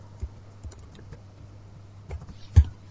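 Computer keyboard keys pressed while writing Python code, a few sparse clicks followed by a firmer double tap like a Ctrl+S save shortcut, close and quiet with no talking.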